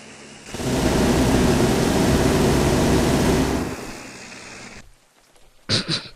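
Rain in the modded video game Unturned, a loud dense wash of falling rain that holds steady for a few seconds, then fades and drops off, followed by a brief separate burst of sound.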